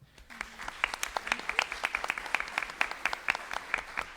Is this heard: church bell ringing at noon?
no